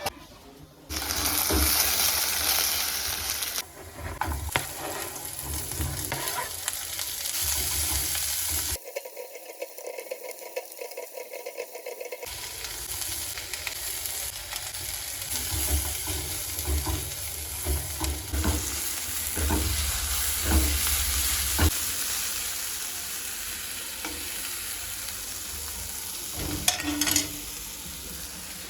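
Vegetable sabzi sizzling and frying in a home kitchen pan, stirred with a spatula that scrapes and clinks against the metal; a steady loud hiss runs nearly throughout, with a brief quiet gap partway.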